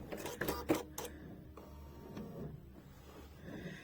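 A sewing machine stitches a zigzag satin stitch, a quick burst of rapid mechanical clatter followed by quieter intermittent whirring and clicks.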